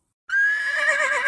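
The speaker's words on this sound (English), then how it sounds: "Neigh is the sound of the horse. A horse neighs." After a brief silence, a horse lets out a loud, close neigh with a bright, wavering whinny.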